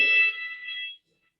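A fire alarm sounding indoors, a loud shrill electronic tone holding for about a second before cutting off abruptly into silence.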